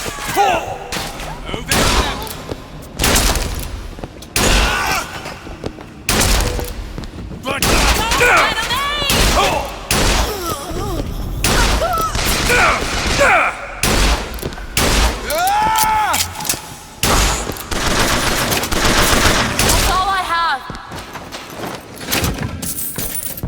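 A high-damage gun in the video game BioShock Infinite fires in repeated loud bursts and single shots with thuds and impacts, while voices talk between the shots.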